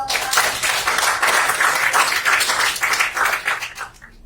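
Classroom applause from a group of students, steady dense clapping for about four seconds before tapering off at the end.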